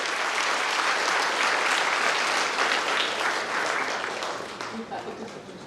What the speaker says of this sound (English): Can you please hear a very big round of applause for our chief guest?